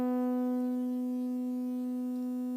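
A sustained synthesizer tone with a strong fundamental; as the low-pass filter cutoff is lowered, its upper harmonics gradually thin out, leaving a duller, softer, near-sine sound. No voices.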